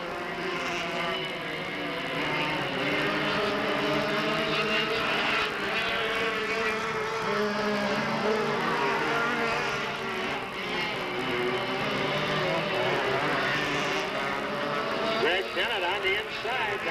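Race cars run a lap at Delta Speedway in a 1997 race, engines droning and whining steadily at a distance under continuous announcer commentary.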